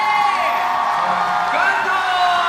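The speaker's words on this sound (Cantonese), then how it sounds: "烈嘅掌聲同歡呼聲歡迎 Stanley" A crowd at a MIRROR fan meeting cheers and whoops to welcome the performers on stage, a loud, dense wash of shrieks and voices that holds steady from start to finish.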